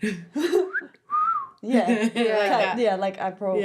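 A short, breathy attempt at whistling, a single rising then falling tone between bursts of talking and laughter.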